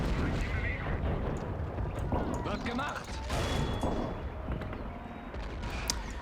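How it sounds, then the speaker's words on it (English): Dense battlefield din from the Men of War: Assault Squad 2 war game, with artillery and gunfire rumbling throughout and a grenade blast buried somewhere in the thick, continuous mix of explosions. "Oh, cooked that grenade for a little too long."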